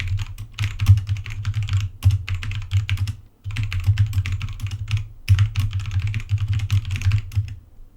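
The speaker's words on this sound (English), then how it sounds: "uses the Kailh brown switches," Fingers type fast on an SPC Gear GK540 Magna mechanical keyboard with Kailh brown switches, giving dense, even clicking and clacking in close bursts. The bursts are split by short pauses, and there is no talking.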